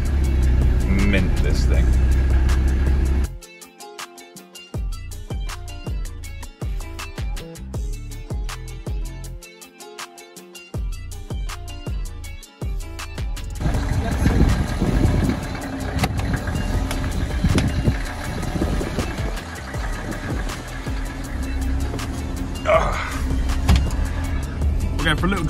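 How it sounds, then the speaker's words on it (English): A Mercedes-Benz G-Wagon W460 is cold-started in the morning, a loud burst of engine noise followed by a quieter stretch of sharp repeated clicks, then the engine settles into a rough, steady idle while someone talks briefly. "First start, cold start in the morning. First turn of the key."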